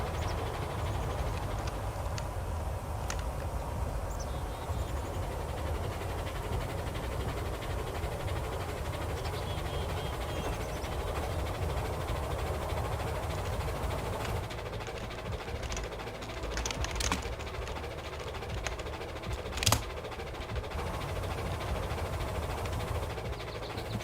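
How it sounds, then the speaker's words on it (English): A Garry's Mod train engine runs at speed in a steady, low, rumbling drone that continues for the whole stretch, with a few faint clicks and no talking. "Henry can do about nearly 80 without derailing, without coaches or anything"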